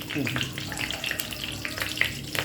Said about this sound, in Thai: น้ำมันกระเด็น ผัดพริกกระดูก ไฟแรงไป